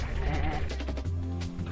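A sheep in the PlayStation game Sheep Raider lets out a single loud, wavering bleat, close and clear, followed by a brief game sound.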